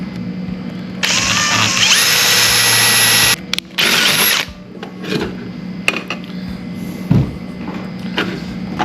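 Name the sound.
drilling a hole for a Campbell pulley bracket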